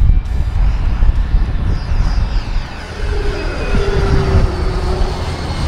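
An E-flite Viper 90mm EDF jet, a 1400mm radio-controlled model, flies by with a loud, steady ducted-fan whine and rushing roar that swells and eases slightly throughout, with no voices.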